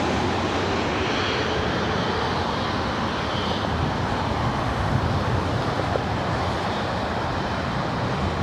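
Jet engine noise from a British Airways airliner at Los Angeles airport fills the air as a dense, steady roar, loud and unbroken throughout without voices.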